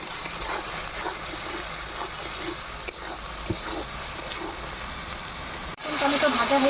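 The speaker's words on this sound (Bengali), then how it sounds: "পেঁয়াজ, রসুন আর টমেটো বাটাটা দিয়ে দিলাম।" A ground paste of onion, garlic and tomato frying in oil over dried red chillies and leaves for an egg and potato curry, making a constant close sizzle with scattered stirring knocks and a louder hiss near the end.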